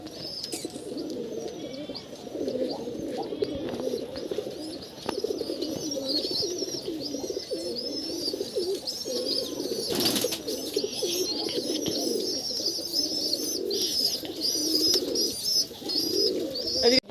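Pigeons cooing in a pigeon loft on a farm, many birds murmuring in overlapping soft coos and chirps, a steady close chorus with an occasional flutter.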